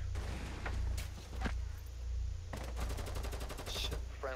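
AUG rifle gunfire in Rainbow Six Siege on the Chalet map, brief shots early then rapid automatic bursts in the second half, heard under ongoing game noise.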